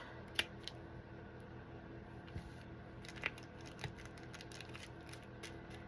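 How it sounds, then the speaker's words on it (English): Scissors give a few crisp snips on paper or fabric while making shabby-style stuffed glassine bags: two sharp clicks near the start and middle and a softer one after. They sound close and isolated against a quiet room. "Let's kind of give that a little snip."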